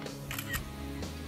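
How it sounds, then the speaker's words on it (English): A camera shutter clicks, a quick mechanical snap followed by a second softer click a moment later, quiet and close. "I'm pressing the camera now, or the shutter now."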